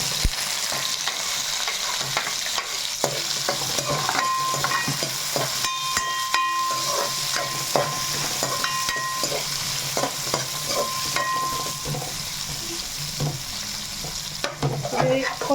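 Onion, green chilli and tomato frying in a pan for chicken masala, a steady loud sizzle with frequent scraping and clinking as the mix is stirred, close and continuous for several seconds without speech.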